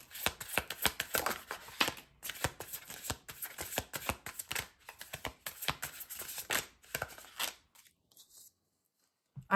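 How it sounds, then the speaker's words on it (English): Tarot cards are shuffled close up in rapid crisp riffling bursts with short pauses between them, ending in near silence. "So let's just do a shuffle."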